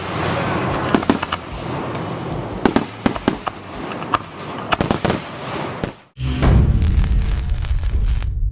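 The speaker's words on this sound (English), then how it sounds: "followed by an incredible fireworks show" A fireworks show bursts at night over an off-road event crowd, a loud continuous barrage of crackling pops and booming explosions with dense overlapping bursts and one brief lull before a heavy finale rumble.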